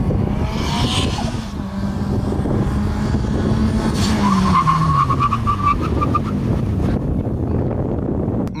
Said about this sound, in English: I'm going to 60 miles an hour and I am hammering the brakes as hard as I can